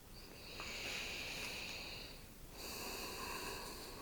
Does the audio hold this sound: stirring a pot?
no